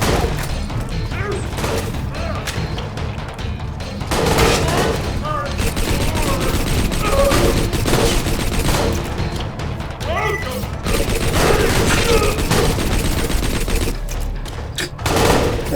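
Dense, loud shotgun blasts from dual-wielded guns in a video game fire in rapid bursts with crashing impacts, nearly continuous across the stretch, under intermittent talk.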